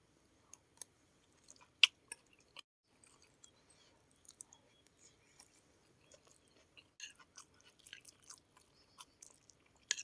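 Someone chewing and biting into an asparagus salad with boiled eggs, soft close crunches and wet squishy bites repeating irregularly in quiet surroundings, with one sharper click near the start.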